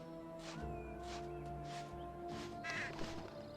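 Birds cawing as they are scared off in the Sphinx and the Cursed Mummy video game, several short harsh calls in a row over a steady tonal game soundtrack, moderately quiet.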